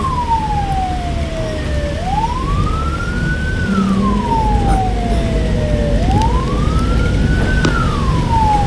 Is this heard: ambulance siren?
yes